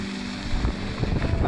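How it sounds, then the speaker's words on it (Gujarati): Strong gusting wind on a jungle trek in Matheran, a loud close roar buffeting the microphone in low rumbling surges with no talk. "પવન બહુ જ ખતરનાક છે ભાઈ."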